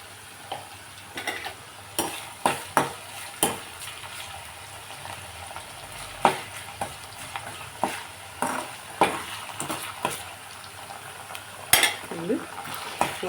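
Ingredients frying in a pan with ginger paste for brain curry, a low steady sizzle broken by repeated sharp clinks and scrapes of a spoon stirring against the pan, close up and without talk.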